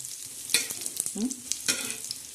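Onion roasts in a pan for a chicken masala, giving a low crackling sizzle. A few sharp spatula scrapes and clinks stand out over the quiet background.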